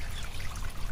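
Spring water running through an off-grid gravity-fed water system at about three gallons a minute, a close, steady pouring trickle without talk.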